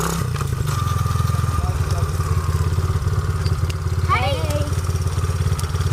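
A street-legal pit bike's small engine runs in a steady, close, chugging rhythm, with a brief clattering thump partway through and a short squeaky noise near the end.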